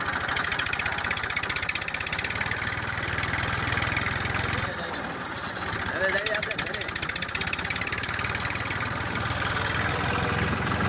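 A farm tractor's engine runs with a steady, close mechanical drone and a short dip in the middle, while people talk over it.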